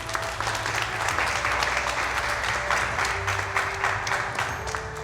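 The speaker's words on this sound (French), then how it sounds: "Vous pouvez les applaudir, bien sûr," Steady applause from an audience at an arts show, continuous crowd clapping with a low hum of background tones beneath it.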